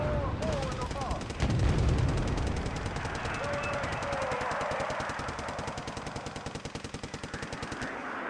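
Artillery and gunfire in the Wargame Red Dragon battle game, a dense, steady rattle of rapid shots with a heavy boom early on, under a continuous rumbling din, with a voice talking faintly underneath.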